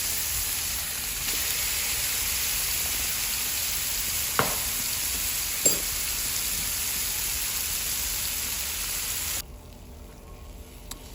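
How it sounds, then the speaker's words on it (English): Salmon fillets sizzling in a frying pan, a steady close hiss of frying oil with a couple of soft clicks from handling, the sizzle dropping away sharply near the end. "Salmon needs to cook for about 8 minutes, 5 to 8 minutes on each side"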